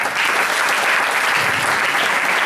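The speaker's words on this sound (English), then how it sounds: "I think that deserves a round of applause." A lecture audience at an industry interaction talk breaks into loud, steady applause, a continuous wash of many hands clapping close by with no pauses.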